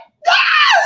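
A person's voice imitates a scream: a short silence, then a loud, high, sustained shriek lasting most of a second before trailing off.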